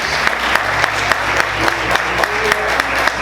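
A church congregation applauds together in a sustained wash of clapping, dense and steady with a few sharper claps standing out, while a voice talks faintly underneath.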